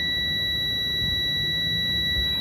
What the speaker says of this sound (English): And then you can hear alarm.